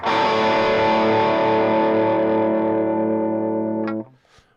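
Distorted electric guitar through an Axe FX 3 with chorus run in parallel: one loud sustained chord ringing for about four seconds, then cut off, leaving a brief scratchy pick noise.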